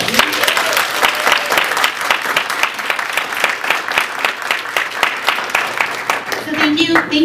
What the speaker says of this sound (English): So I think Mike deserves another round of applause.